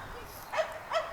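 Dogs at a dog park give two short yips or barks at a moderate distance, set against faint outdoor background noise.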